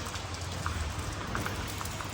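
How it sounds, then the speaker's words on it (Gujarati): Rain begins falling at a house in Gujarat, a faint, even patter of drops with scattered light ticks over a low steady background hum. "જો પાહો વરસાદ ચાલુ થઈ ગયો હો."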